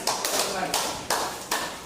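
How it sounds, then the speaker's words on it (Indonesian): A class of pupils claps in a few sharp, evenly spaced bursts, as if keeping a rhythm together. A voice is heard faintly underneath. "Tepuk tangan dulu. Untuk kalian."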